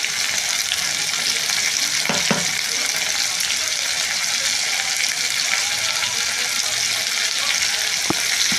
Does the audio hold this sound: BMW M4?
no